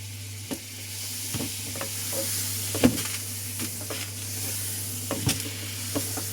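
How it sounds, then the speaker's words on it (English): Butter hitting a very hot pan before lamb is cooked, a loud continuous sizzle and hiss with occasional pops and spatters, close and steady throughout. "Let's go ahead and drop some butter into it here."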